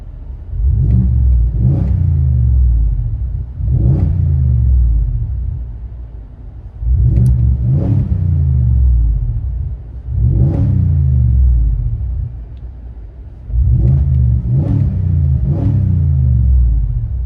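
A 2025 Ford F-250 with a 6.8L V8 and Carven R-Series exhaust, fitted with a small resonator and big muffler, revs repeatedly in short loud bursts, each roaring up and falling back to a deep idle between blips.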